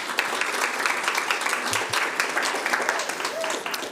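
Sustained applause fills a board of education meeting room as attendees clap for an honoured district counselor, a dense even patter with faint crowd murmur underneath.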